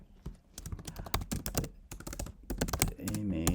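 Fast typing on a computer keyboard, a dense run of close, crisp key clicks with short pauses, the pace picking up toward the end.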